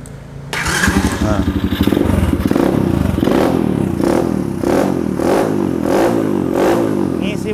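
An SK 110 Pro mini trail motorcycle starts after a short starter whir, then idles and revs in quick repeated bursts close by, with brief spoken interjections over the engine.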